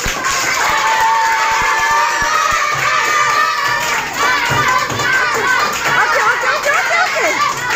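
Fourth-grade children clap and shout excitedly during a classroom quiz contest, a quick run of claps at the start giving way to a loud, lively crowd of young voices.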